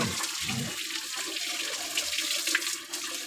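Water splashing and running over Lalu, a pet being given a cool-water bath, a steady close wash of pouring and dribbling with a few louder splashes.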